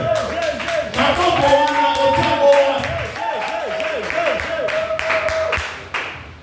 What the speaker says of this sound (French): Je dis acclame pour le Seigneur